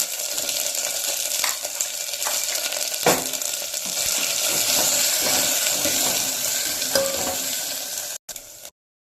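Water is poured into a hot pot of dill-leaf rasam holding spice paste, dried red chillies and curry leaves. A continuous close pour mixes with sizzling and stirring, then cuts off sharply near the end.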